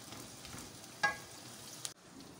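Onions fry in a pan with a quiet steady sizzle, punctuated by a sharp spoon clink against the pan and a brief scrape near the end.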